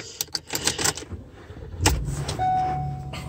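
A 2017 Ford Transit T-350 XLT van starts after a jangle of keys: a short burst from the engine, then a steady low idle with a thin electronic chime running alongside.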